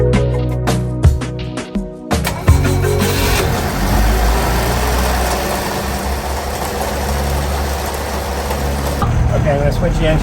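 A motorboat engine idles on an estuary bay with small creeks and inlets. It sets in after a few sharp knocks and holds a steady, loud, close rumble for most of the stretch before easing near the end.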